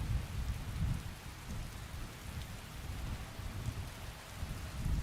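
Rain falls steadily in Skyrim's Anvil Wabbajack, a continuous moderate hiss over low, swelling rumbles that rise and ease in waves, with no one speaking.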